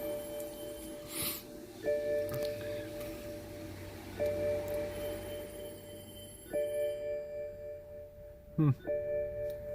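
A BMW door-open warning chime repeats as steady electronic dings at regular intervals, fairly quiet, inside a car with faint background noise and a brief clunk near the end.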